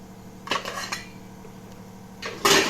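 Metal clatters as a lid is set on a steamer pot of idli batter, two short clanking bursts about two seconds apart, the second louder and closer.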